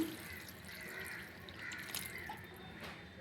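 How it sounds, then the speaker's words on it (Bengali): Water poured into mushroom curry cooking in a pan, a faint, soft trickle with light drips lasting a few seconds. "এবার আমি এর মধ্যে জল দিয়ে দিব। খুব বেশি একটা জল দিব না,"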